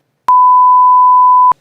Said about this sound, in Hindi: ट्रंप ने जिस अभद्र भाषा का इस्तेमाल किया है, हमने उसे बीप बीप कर दिया है।